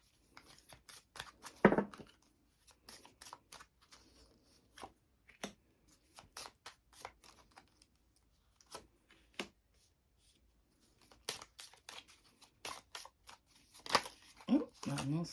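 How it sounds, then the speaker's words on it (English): Crisp, rapid riffling bursts of a cartomancy card deck being shuffled, repeating in short clusters with pauses, near and fairly quiet, with a voice talking intermittently. "So this is a cartomancy deck that I am shuffling right now"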